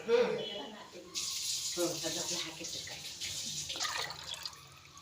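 Water splashing and running into a cooking pot for rice in a Malenadu home kitchen, a steady pouring wash that starts after a moment and continues under a voice talking throughout.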